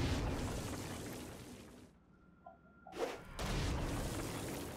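A deep boom from an explosion in the video game Saints Row: Gat Out of Hell breaks through dense game noise, followed by a brief near-silence and a second burst as the blast's rumble returns.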